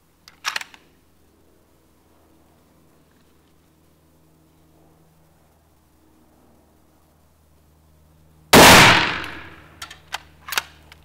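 A Rossler Titan 6 rifle chambered in .270 Winchester fires a single RWS Evergreen round at a shooting range: one loud, close, violent blast with a long decay, preceded by a faint click and followed by a few light metallic clanks.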